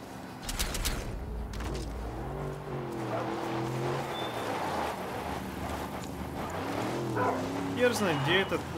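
A dog in Far Cry New Dawn barks and whines in short yips over a steady hum of vehicle engine noise, with a voice talking alongside.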